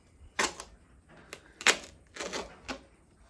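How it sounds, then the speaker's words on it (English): Insulation being cut away by hand, heard as a few short, crisp cutting and tearing bursts at close range, separated by brief pauses, with no talk. "We're going to cut this insulation away."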